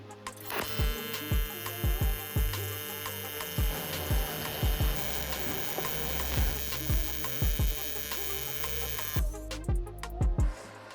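TIG welder running beads on 3/16-inch aluminum at 90 amps with a foot pedal: a steady electrical hum and buzz with regular soft ticks and pulses, close and continuous, no talking.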